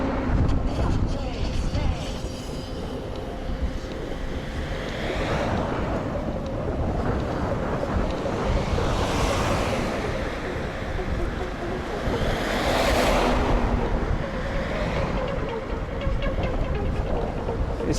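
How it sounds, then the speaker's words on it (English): A strong headwind buffets the microphone of a cyclist riding in Japan, making a loud, constant roar that swells and eases in gusts throughout. "This headwind is kind of brutal though."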